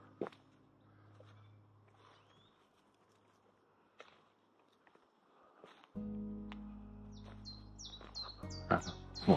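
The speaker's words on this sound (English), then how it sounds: "So a blackbird." A blackbird sings outdoors in short, faint chirping phrases that come mostly near the end, with scattered footsteps and light wind in the background.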